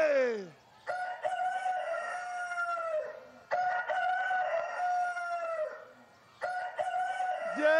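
A rooster crows loudly and close by three times in a row, each cock-a-doodle-doo long and drawn out with short pauses between, at a town gathering in Falcón state.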